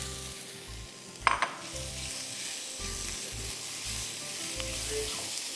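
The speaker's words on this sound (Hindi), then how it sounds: "चलें अब चिकन डाल देते हैं इसमें।" Chicken added to a pot of peanut soup sizzles steadily and close by, with a brief clatter of pieces going in near the start before the constant frying hiss continues.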